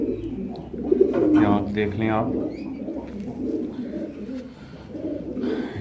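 Low-flying pigeons coo softly in low, rolling bursts close by, with someone talking over them.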